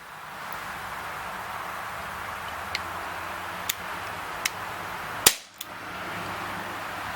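A single sharp crack of a Browning Hi-Power Mark III CO2 BB pistol firing, loud and close, amid a few faint ticks over steady background hiss.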